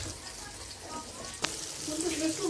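Chicken 65 pieces frying in hot oil in a pan, a steady soft sizzle with a brief clack partway through and the frying growing slightly louder toward the end.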